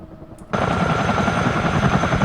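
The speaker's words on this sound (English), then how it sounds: "we've got our ramp open, and the rotors are slowly dying" A Chinook CH-47 helicopter in a flight simulator gives off a steady, loud, throbbing rotor and turbine roar that begins abruptly after a brief quiet moment and continues without pause.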